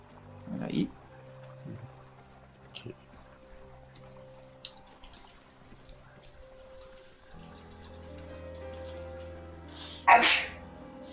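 One sharp human sneeze bursts out near the end of a quiet tabletop role-playing game session, following a low background murmur and a smaller sneeze-like puff at the start.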